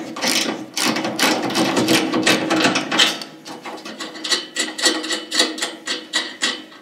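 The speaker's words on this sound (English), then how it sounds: "you're going to be using your 9/16 socket with ratchet and" A 9/16 socket on a ratchet loosens bolts on a Weil-McLain SlimFit boiler, giving rapid close metallic clicking that slows into a steady rhythmic ratcheting toward the end.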